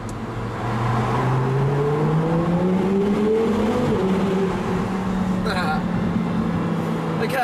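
A convertible car with its roof down and sport mode selected accelerates hard, the engine note climbing steadily in pitch through the revs, then easing back as a gear changes, loud and close with wind noise.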